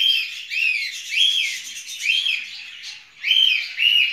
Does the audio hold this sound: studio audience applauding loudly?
no